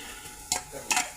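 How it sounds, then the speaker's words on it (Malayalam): Chopped carrots dropped into boiling turmeric water for upma, with a bubbling background broken by sharp clinks and splashy scrapes of a spoon against the pot, close and brief. "ഇത്രയും ക്യാരറ്റും കൂടെ ഇട്ട് കൊടുക്കുക"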